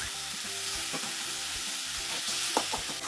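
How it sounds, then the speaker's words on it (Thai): Chicken sizzles in a hot pot with fragrant curry paste for a Thai chicken and potato curry, while a utensil stirs and scrapes it in a steady, repeating rhythm, close and continuous. "จากนั้นผัดไก่ให้สุก"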